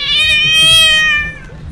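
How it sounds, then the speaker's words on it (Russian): A cat in a park gives one drawn-out, tonal meow lasting nearly two seconds, loud and close, with faint background rumble and no talking. "Смотрите, это кошка, видели?"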